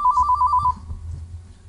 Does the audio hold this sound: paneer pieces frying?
no